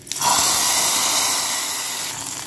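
Hot tempering of coconut fried golden with curry leaves is poured into a tamarind curry, setting off a sudden loud hiss that swells quickly and then slowly fades as it sizzles.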